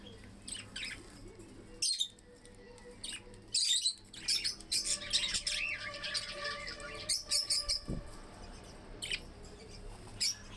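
Budgerigars chirp inside a cage with quick, high, irregular tweets and squawks in scattered bursts, some close, with soft rustling and a brief thump between calls.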